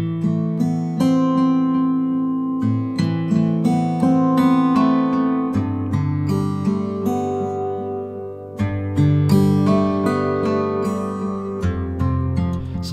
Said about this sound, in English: Okay, so a modulated filter sounds like this.